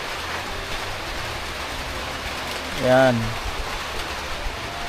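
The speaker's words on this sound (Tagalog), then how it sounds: "yan po, bumuhos na ang ulan." Heavy rain pours steadily during Typhoon Vedang, a dense, even hiss that fills the whole stretch, with a short spoken word rising briefly over it near the middle.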